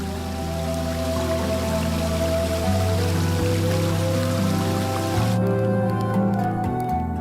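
Cartoon-style rain sound effect, a steady watery patter and trickle filling the scene, continuous and fairly loud with a musical score underneath, no talk.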